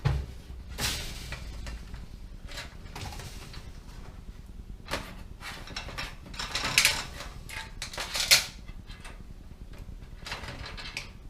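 A metal conveyor frame of a double split belt XLT pizza oven is pulled forward, giving off scattered clanks, rattles and ratcheting clicks of chains and metal parts at moderate volume over a low hum.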